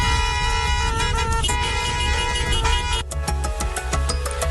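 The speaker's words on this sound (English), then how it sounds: "People are honking to say thank you." Many car horns honk together in a parking lot as drivers thank healthcare workers, a dense overlapping chorus of sustained blasts and short toots, loud and close, with idling engines beneath.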